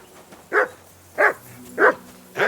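Four evenly spaced barks from a dog in Kingdom Come: Deliverance II ring out close and distinct, each short and punchy, with quiet gaps between them.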